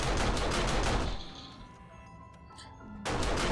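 Auto turret fire in the game 7 Days to Die, rapid loud bursts of automatic gunshots that pause into a quieter lull before the fast volley starts again, with no voices.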